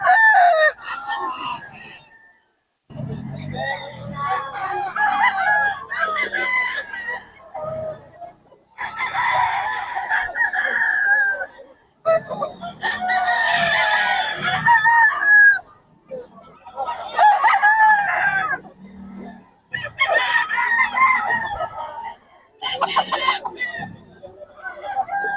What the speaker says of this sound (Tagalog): Solid mga quality mga manok ni Boss M